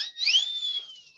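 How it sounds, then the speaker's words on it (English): A whistle sounds alone, one sustained rising-then-level tone lasting about a second, fairly clear and close. "Love that whistle."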